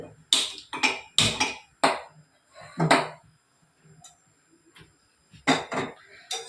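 Ragi porridge cooked for babies is stirred in a pot, producing sharp, irregular clanks and scrapes of a spoon against the metal, close and loud, separated by short quiet gaps.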